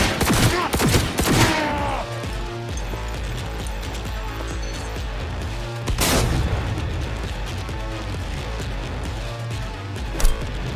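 Gunfire in the video game Cyberpunk 2077: sharp shots cluster at the start, then a single loud blast near the middle, ringing over a steady layer of game music and ambience.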